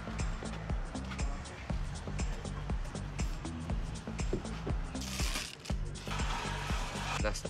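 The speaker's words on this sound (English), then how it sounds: "you want to give this a good stir for at least 30 seconds to a minute, making sure the paste is completely mixed in with primer" Glass fibre paste stirred into primer in a container, a quiet, continuous rhythmic scraping and knocking that repeats steadily throughout, close up but faint.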